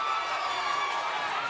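A boxing arena crowd cheers on a fighter during a ProBox TV main event bout, a dense, steady roar of many voices that holds throughout the brief moment.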